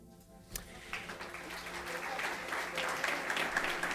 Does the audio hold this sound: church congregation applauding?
yes